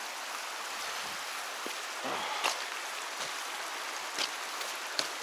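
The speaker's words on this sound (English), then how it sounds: "See how nice this mountain river or mountain water actually is." A mountain stream in the Scottish Highlands flows steadily, a continuous hissing rush of water with a few brief splashes and trickles standing out, heard close and alone.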